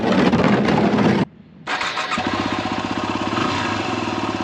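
An engine on the vehicle called Lucky Blue cranks, drops out briefly, then catches and settles into a loud rhythmic idle close by, with no one speaking.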